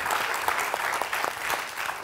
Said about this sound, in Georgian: კიდევ ერთხელ აპლოდისმენტები